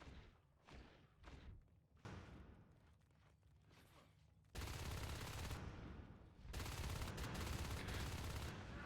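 A marine's gun fires in a video game in rapid, sustained bursts, with dense, loud fire that keeps up steadily through the second half.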